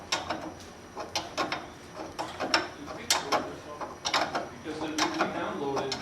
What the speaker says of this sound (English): taking your 7/8 wrench, go ahead and back off the nut